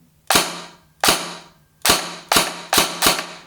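Kriss Vector airsoft replica by Krytac fired in semi-automatic, five sharp separate shots at uneven intervals, each a loud crack with a short decaying tail, close to the listener with no talking.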